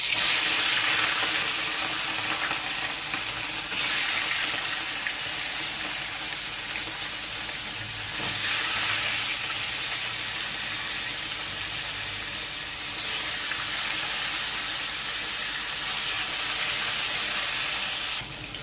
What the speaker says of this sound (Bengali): তেলটা গরম হয়ে গেছে এবার আমি মাছগুলো ভেজে নেব দিয়ে দিচ্ছি মাছ